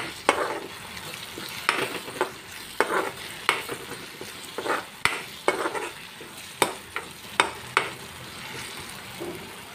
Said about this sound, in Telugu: కొంచెం ఫ్రై అవ్వనిద్దామండి అది అల్లం వెల్లుల్లి పేస్ట్ అనేది